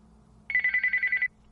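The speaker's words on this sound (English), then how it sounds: "As soon as she does, the phone rings again." A telephone rings in one short, loud burst of rapid electronic trills lasting under a second, alone over a quiet room background.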